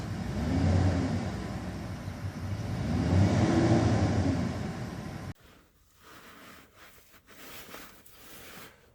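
A Ford truck engine, run with no coolant in it, revs loudly in two long rising-and-falling surges over about five seconds, then cuts off abruptly, leaving quieter low rumbling and clatter behind.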